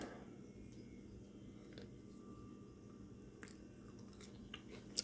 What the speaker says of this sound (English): as you can probably hear me crunching on the piece I just grabbed